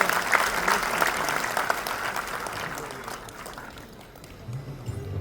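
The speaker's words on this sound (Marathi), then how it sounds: "तुमच्यासाठी आपण एकदा जोरात टाळ्या वाजवूया." An audience in an auditorium at a civic felicitation claps loudly and continuously, and the applause fades out toward the end while a faint voice murmurs beneath it.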